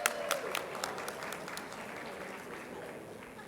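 An audience at an awards ceremony breaks into applause, starting with a few sharp claps that settle into a steady, fairly faint patter of clapping in a large hall.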